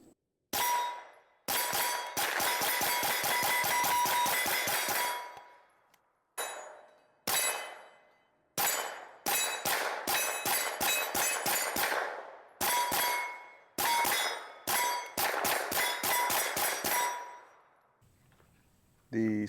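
A Smith & Wesson FPC carbine with a 23-round magazine fires rapid strings of shots at steel targets, each hit ringing with a sharp metallic clang, in several loud bursts separated by short pauses.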